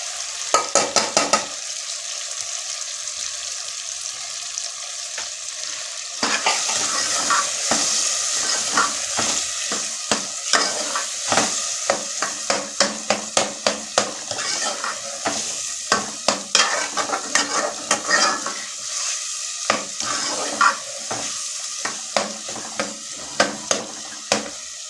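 Boiled white chickpeas are stirred and fried in masala, giving a loud continuous sizzle with rapid, repeated scraping and clinking of a spoon against the pot, no talking.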